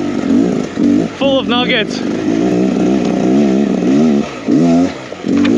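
A 2023 Beta X Trainer 300 enduro motorcycle climbs hills on a rocky mine trail, its two-stroke engine revving and surging in repeated bursts close to the microphone while someone talks over it.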